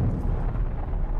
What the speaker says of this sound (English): And now there's Unitologists explosions